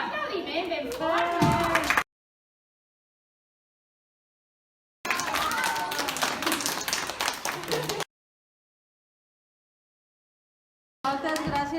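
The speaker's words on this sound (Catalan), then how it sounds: "Doncs un aplaudiment ben fort." An audience at a children's fairy and elf event claps hard in two loud bursts separated by a long gap of silence, with a third burst starting at the end and voices mixed in.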